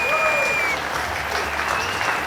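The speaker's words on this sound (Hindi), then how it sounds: "जोरदार तालियां हो जाए हमारी ज्योति भाभी के लिए" Studio audience applause for Jyoti Bhabhi on the Hindi TV comedy Wagle Ki Duniya, a dense steady wash of clapping from a crowd that holds evenly for a couple of seconds.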